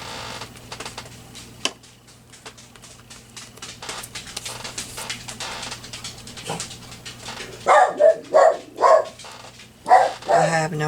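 A dog barks indoors in a series of loud, close barks clustered near the end. A quieter household hum and clatter runs underneath.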